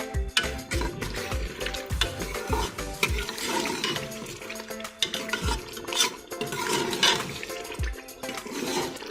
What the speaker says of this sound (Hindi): 5 से 7 मिनट तक मज़ीद इसकी हम भुनाई करेंगे